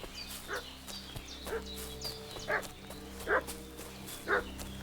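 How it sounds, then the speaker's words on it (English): In the video game Kingdom Come: Deliverance II, a dog barks in a steady series of sharp, moderately distant woofs over a low ambient hum. "What's that dog making such a fuss about?"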